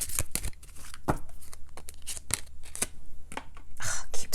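A deck of tarot cards is shuffled by hand in a quiet room. Crisp flicking bursts and riffles arrive in short irregular clusters, with softer rustles and brief gaps between them.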